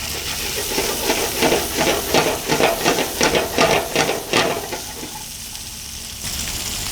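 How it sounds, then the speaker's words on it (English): Peppers hitting a hot pan of olive oil give off a steady hiss with bursts of crackling sizzle for about five seconds, then settle into a quieter, softer fry. "we're going to saute our pepper and our onions in a little bit of olive oil"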